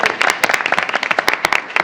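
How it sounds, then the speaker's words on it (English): Scattered applause from people at a school board meeting, with individual claps standing out sharply in an uneven, fairly close patter rather than a full roar. "The applause was not necessary, but certainly appreciated, even if it was forced"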